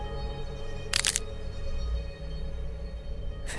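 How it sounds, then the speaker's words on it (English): Two short, sharp crackling bursts, like brittle pieces breaking off a face, sound over a low steady background hum; the first is loud and the second comes near the end. "making a cracking sound as they go."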